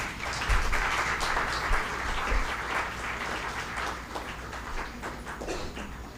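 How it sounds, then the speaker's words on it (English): A conference audience applauds at a technical event in Delhi, a dense, steady wash of many hands clapping from start to finish, with a few low thumps mixed in and no speech over it. "I also request the audience to please give a huge round of applause."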